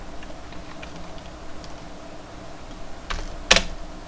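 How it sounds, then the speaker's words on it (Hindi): Keys on a computer keyboard clack in a light scattered run, ending in a sharper, louder thump of the space bar, heard close and alone. "स्पेस बार प्रेस करता हूँ"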